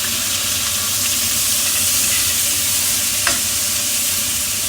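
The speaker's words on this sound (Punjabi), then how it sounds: "ਇਹਨੂੰ ਹੁਣ ਆਪਾਂ ਭੁੰਨਣ ਦੇਣਾ ਆ ਬਈ ਇਹ ਬਰਾਊਨ ਕਲਰ ਦੇ ਹੋ ਜਾਣ" Onions fry in ghee with spices in a kadhai, a steady close sizzle and hiss with one brief utensil clink partway through and no speech.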